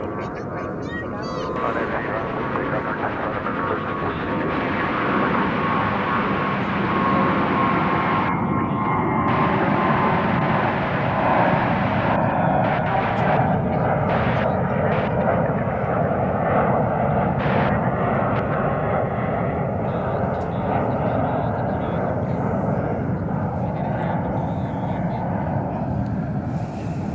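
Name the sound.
American Airlines Airbus A321 taking off from runway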